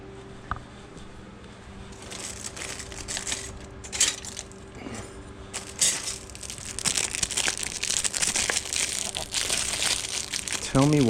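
A plastic bag crinkles and crushes repeatedly during freeze-dried food packing, with bursts of close, sharp rustling that grow busier toward the end while a person talks.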